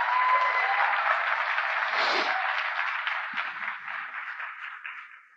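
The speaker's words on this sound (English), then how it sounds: "So let's give a big round of applause to ShopUp." An audience at a Bangladesh startup event applauds for ShopUp, a steady, bright wash of clapping that tapers off toward the end.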